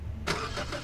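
A car engine in the Roblox game Lumber Tycoon 2 starts abruptly after a brief low hum, then settles into a steady, close idling drone.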